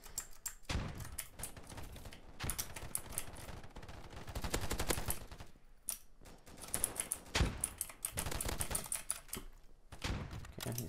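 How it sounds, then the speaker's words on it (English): M16 rifle gunfire in the shooter game Polygon, several bursts of rapid automatic shots separated by short pauses, loud and close with no talking. "try and get a couple shots in before he peeks me"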